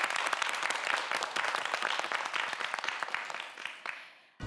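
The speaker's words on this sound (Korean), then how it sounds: "김세윤 학생과 김창규 학생, 4명의 학생 모두에게 다시 한번 큰 박수 부탁드립니다" Studio audience on a Korean televised student quiz show gives a sustained, even round of applause for the contestants that fades gradually toward the end before a short cut.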